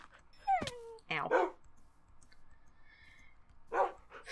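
Dogs in the Minecraft video game give a few short barks and yips, close and clear, in separate bursts with quiet gaps between them.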